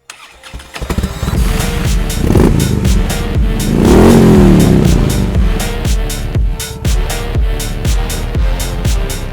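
A 2019 Harley-Davidson Sport Glide Softail with a Milwaukee-Eight engine starts up close by, then idles with a lumpy, steady thump and rises into one revving swell before settling back to a loping idle.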